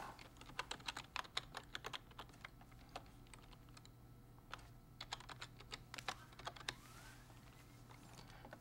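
Fingers type a username and password on a computer keyboard, a quiet, close run of uneven key clicks in short bursts with small pauses between them.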